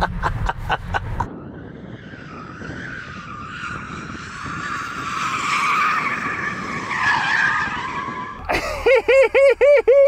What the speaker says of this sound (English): warm up the tyres on your Model 3